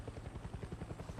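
A helicopter in the video game Far Cry 6, its rotor thumping in a fast steady pulse, faint and low, with no talking.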